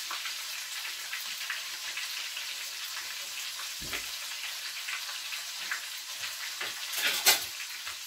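Pine mushrooms deep frying in hot oil give a steady, dense crackle and sizzle throughout, with a few louder pops and bubbling bursts near the end.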